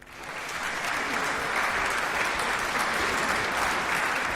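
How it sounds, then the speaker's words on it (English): An audience at a business awards ceremony breaks into applause, the clapping rising quickly and holding as a dense, steady roar of many hands. "Let's have a round of applause for all of you."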